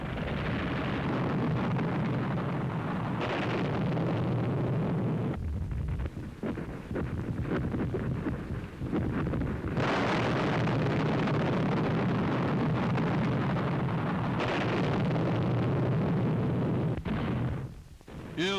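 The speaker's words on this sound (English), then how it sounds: "At Lüneburg, again the bombers attacked marshalling yards." Bombs bursting on the rail marshalling yards at Lüneburg, Germany, a dense, continuous roar of heavy blasts and rumble that drops away briefly, then surges back loud and sustained.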